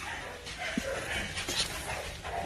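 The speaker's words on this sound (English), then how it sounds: "These are the puppies from Tyson and Drama." American Bully puppies give soft whimpers and small yips close by over a faint hiss of room noise, brief and quiet with no talk.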